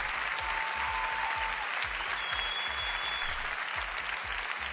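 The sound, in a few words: audience applause and cheering at a quiz show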